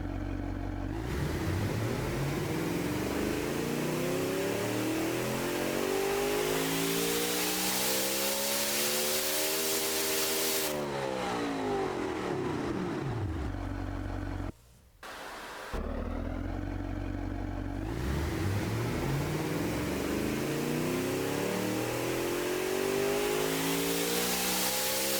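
Simulated engine in the game Automation on a dyno run, loud sustained roar sweeping up in pitch and back down twice, with a brief cut in the middle and no talk.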